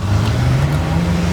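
A Ferrari 458 sports car drives by with a steady, loud engine drone and road noise that hold evenly for a moment.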